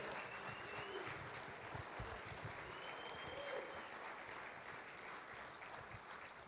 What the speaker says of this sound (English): And I want to thank Trey and give Trey a big round of applause.